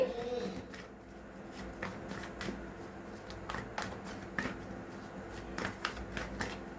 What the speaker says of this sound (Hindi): मैं सारे नहीं ले सकती, एक बार और शफल करूंगी।